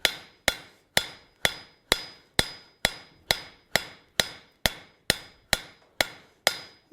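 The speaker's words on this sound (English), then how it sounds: "Using the cross peen of our hammer." A forging hammer's cross peen strikes hot steel in a steady rhythm, about two sharp ringing blows per second, each one close and loud with a brief decay.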